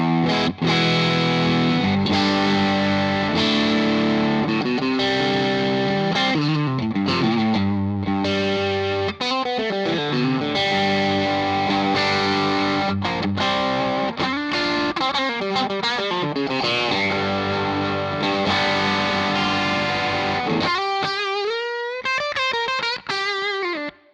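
An electric guitar played through a CKK Honey Jar overdrive pedal, a TS808 Tube Screamer clone, sustained chords and riffs with a warm, crunchy drive, continuous and loud, ending in a few lighter picked notes.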